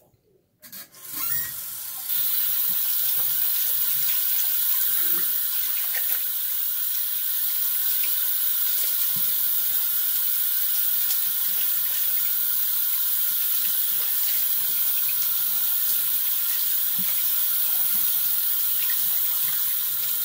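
A tap runs steadily into a sink to rinse off after a shave with a Kamisori shavette, a constant close hiss of flowing water that starts abruptly and continues alone.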